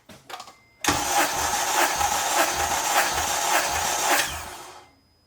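Acura TSX engine cranking during a compression test with a gauge screwed into a cylinder, a loud, steady rhythmic churn of about five cranking beats over several seconds, then winding down. A few faint clicks come before it.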